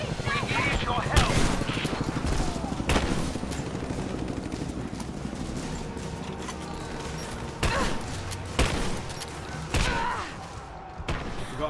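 Gunfire in Rise of the Tomb Raider, several sharp heavy blasts spaced out amid ongoing combat noise, fairly close, with voices talking in between.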